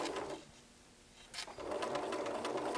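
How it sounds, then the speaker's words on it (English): A sewing machine runs a few stitches into fabric, pauses briefly, then hums again with a steady rapid whirr for the back stitch, close and clear with no talking. "I'm going to stitch a couple of stitches and back stitch"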